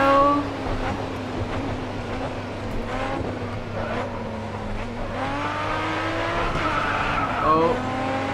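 A racing car drifts in the video game Grid Autosport, its engine droning steadily while the tires skid and squeal, rising in pitch near the end.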